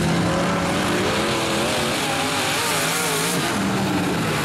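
IMCA and Outlaw modified race cars running on a dirt track, several engines roaring and wailing together at close range, dense and loud with rising and falling pitch.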